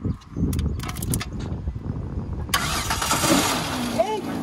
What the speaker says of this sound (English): That's how you start a car in gear